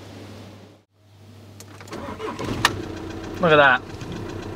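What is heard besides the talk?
car engine starting with GrePro GP383 jump starter, slight knocking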